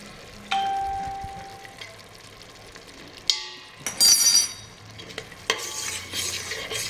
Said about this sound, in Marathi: व्यवस्थित मिक्स करून घेऊया